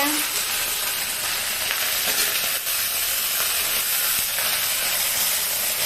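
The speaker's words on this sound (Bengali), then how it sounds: "এরপর দেখো নাড়ছে একটু হালকা হালকা করে" Potato and taro pieces frying in a pan alongside okra, stirred gently, giving a steady close sizzle with faint scraping of the stirring utensil throughout.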